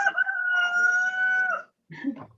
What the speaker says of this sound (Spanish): ¿a quién es que les canta el gallo?